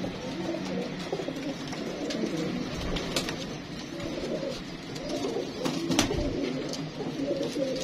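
Pigeons coo steadily from a nearby loft where fancy pigeon pairs are kept, soft repeated throaty calls layered over one another alongside occasional wing flutters and faint background noise.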